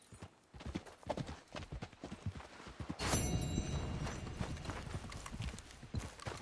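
Horse hooves clip-clop in a video game, first in an uneven walking rhythm and then in a faster, steadier gait. The hoofbeats are moderately close and sit over a soft outdoor ambience.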